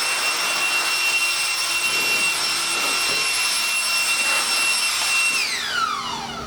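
A small air blower runs loud and close, blasting dust off FRP pultrusion composite parts with a continuous whooshing roar and a high whine that dips in pitch as it winds down at the end.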